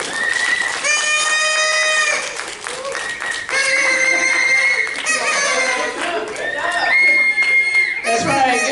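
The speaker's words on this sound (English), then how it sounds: "Give her a round of applause, everybody." Audience applauding and cheering after a leadership talk, a loud crowd of clapping with whoops and shouts rising in waves and a few sharp high cries.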